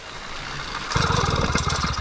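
An 80cc two-stroke bicycle engine mounted on a 29-inch mountain bike sputters to life partway through, after a quiet start, then runs with a rapid, uneven putter close by.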